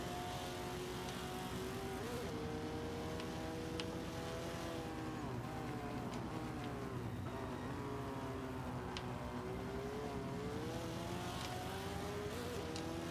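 Mitsubishi EVO VI engine in Forza 5, B Class grip build, racing with steady droning revs that rise and fall through gear shifts, fairly quiet and continuous with no talk.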